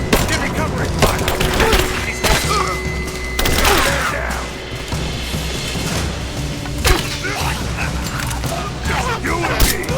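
Heavy gunfire rattles through a combat firefight in Rise of the Tomb Raider, with repeated loud bursts and thuds across the scene while voices shout under the shooting.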